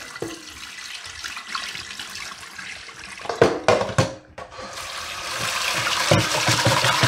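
Sushi rice is rinsed under a running tap, with water gushing and splashing in a bowl, swirling and sloshing sounds rising to a steady loud flow near the end.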